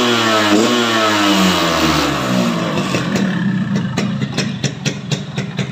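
A 2004 Yamaha RX King two-stroke motorcycle revs hard, its pitch sweeping up and down before settling into a choppy, crackling idle with rapid exhaust pops, close and loud throughout.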